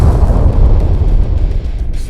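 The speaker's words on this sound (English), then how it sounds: "there seems to be an explosion right outside the Tim Testy Test Center" A loud, sustained deep rumbling boom roars in a game setting outside a test center, heavy low-end energy holding steady for about two seconds with no voices over it.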